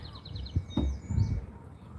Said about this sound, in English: Yeah, the birds are definitely beautiful around here.